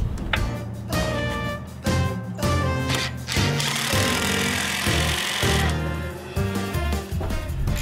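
A small golf cart engine runs steadily after its carburetor was cleaned with carb cleaner, a continuous loud mechanical chugging with repeated rhythmic knocks and no voices.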